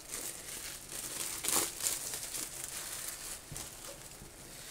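Packaging for an 8BitDo retro mechanical keyboard crinkles and rustles during unboxing, with a few sharper crackling bursts over a soft, continuous papery background, close by.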